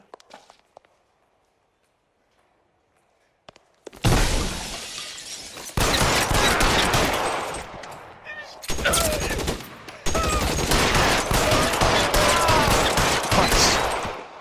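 Video game gunfire in L.A. Noire: after a near-silent opening, loud bursts of shots and shattering break out around four seconds in and continue densely with brief gaps, close and harsh, with a few voices mixed under the shooting.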